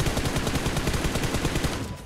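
Fast automatic gunfire in a shooting video game, a steady close burst of evenly spaced shots running without pause, loud and with no voice over it.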